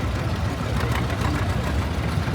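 A vintage John Deere tractor engine rumbles close by during a parade of power at a historical engineers' show, with a low, steady throb that stays constant and has no talk over it.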